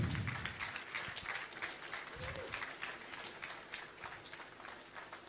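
Continuous clapping from an audience at a church university grand opening, a dense, moderately distant patter that holds steady throughout with a faint low rumble beneath.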